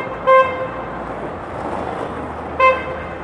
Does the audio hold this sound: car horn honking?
yes